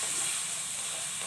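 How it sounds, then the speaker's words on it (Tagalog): Chicken sautéing in bagoong (fermented shrimp paste) for an Ilocano-style tinola, giving a steady, close hiss of sizzling that holds level through the whole short stretch. "Igigisa natin siya sa bagoong."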